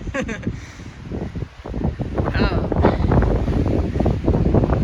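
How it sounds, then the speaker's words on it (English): Strong gusty wind on a rocky mountain stretch of the Pacific Crest Trail, buffeting the microphone with a loud, continuous roar that rises and surges, and a few brief human sounds at the start. "Man, that wind."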